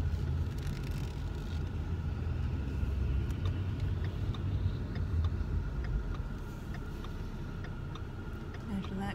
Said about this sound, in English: this will be the first time I've driven the V6 Mustang